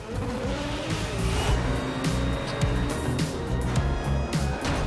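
Racing car engine from the video game Forza Motorsport 7, a loud sustained roar with shifting pitch and bursts of tire noise throughout, with no talking over it.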